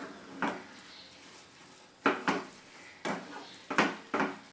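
Carrot halwa is sautéed in ghee in a pan, with a spoon scraping and knocking against the pan in irregular bursts over a faint sizzle.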